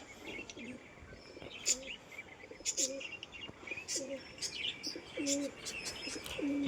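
High-flying pigeons cooing nearby, several soft repeated coos with a few chirps and brief flutters, fairly faint against a quiet background.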